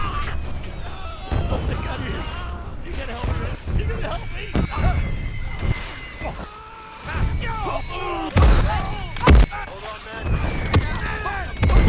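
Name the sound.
explosions in Gates of Hell video game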